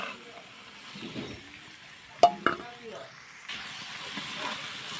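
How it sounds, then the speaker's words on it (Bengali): Boiled chickpeas being stirred with spice masala in a frying pan for a Ramadan chola bhuna, a soft scraping sizzle with a couple of sharp utensil knocks near the middle. "বুট আর মশলাগুলো এখন ভালোভাবে আমি মিক্সড করব।"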